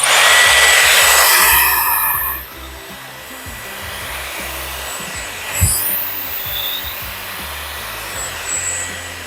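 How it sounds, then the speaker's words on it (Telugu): Dyson Airwrap volumizing brush running as a loud, steady, close airflow whine that cuts down to a quieter hum after about two seconds, then continues with a brief clunk midway. "నా వాల్యూమైజింగ్ బ్రష్ ట్రై చేద్దామండి. ఆన్."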